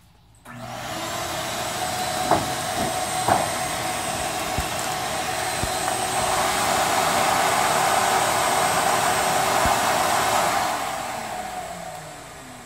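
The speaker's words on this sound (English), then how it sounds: "Just drilled holes in the main pipe and attached the vacuum to that." A vacuum cleaner hose attached to a drilled main pipe sucks air through it for vacuum forming a 750 Cruzer stabilizer skin, heard as a steady loud whooshing roar that swells midway, then fades, with a few knocks and no talk.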